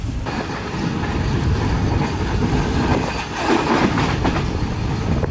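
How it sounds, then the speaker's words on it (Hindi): Shah Hussain Express passenger train running along the line at moderate speed, with steady rumbling and rhythmic clickety-clack of wheels over rail joints heard from inside the carriage. "स्पीड तो ज़्यादा नहीं है ट्रेन की इस वक्त"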